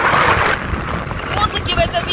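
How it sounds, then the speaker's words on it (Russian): Strong, steady wind buffets the microphone while riding a scooter along the Croatian coast near Zlatni Rat Beach, a loud constant roar with a voice talking faintly beneath it. "У вас сегодня вместо музыки будет шум ветра"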